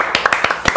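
Brief burst of audience applause on a studio show, a few loud claps standing out in a short, dense patter with no voices.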